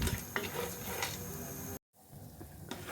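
Cashews and almonds frying in ghee for carrot halwa make a soft, close sizzle with scraping stirs and light pan knocks. A brief silence cuts in partway through.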